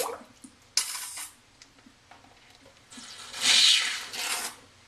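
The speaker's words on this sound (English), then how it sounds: "We're going to shoot some water in here now to clean out some of the residue from the egg." Water squirts into a hollow eggshell to rinse out leftover egg, giving short close splashy bursts and sloshing with small drips and shell clicks between them.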